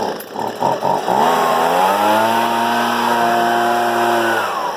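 A small two-stroke leaf blower runs steadily and loudly up close outdoors at a sawmill, sputtering at first before settling into a continuous high drone.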